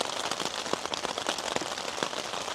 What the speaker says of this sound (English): Nothing quite like the sound of just the rain hitting.